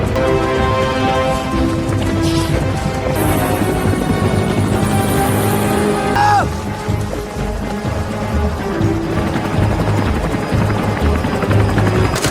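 A Pakistani attack helicopter flies overhead in a combat setting, its steady rotor thrum loud and continuous with a layered mechanical drone throughout, mixed with dramatic background sound and no speech.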